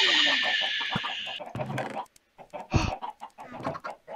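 Minecraft chickens on an island cluck in short repeated bursts alongside other game sounds, with someone talking over them.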